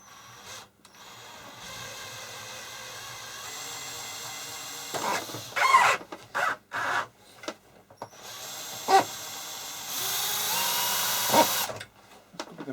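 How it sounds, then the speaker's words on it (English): A power drill with a blunt bit drilling out steel rivet caps on an HP 3457A multimeter, whining in several bursts of varying length with pauses and small clicks between, close and loud, with no talk. "So let's get a drill on it and see if we can drill this out."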